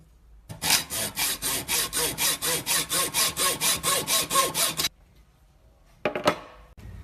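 A hand saw cuts through a screw clamped between scrap wood in a vise, with about eighteen rapid, even rasping strokes, followed by a pause and a few scraping knocks.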